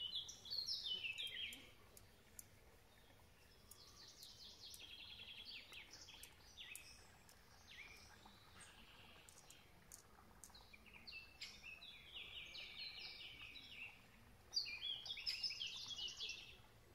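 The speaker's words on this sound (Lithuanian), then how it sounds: "Paukščiukai čiulba nuostabiai." Small birds chirp and sing in repeated bright phrases beside a forest stream on a nature trail, faint and somewhat distant over a soft background hush.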